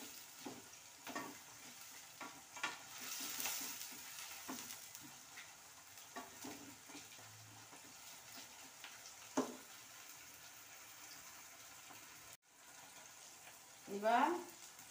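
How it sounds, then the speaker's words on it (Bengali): Tomatoes frying in a pan, with a low, steady sizzle and occasional stirring scrapes and clatters all the way through. Near the end there is a brief louder burst of sizzle. "এবার এইটাকে সুন্দর করে ভাজবো"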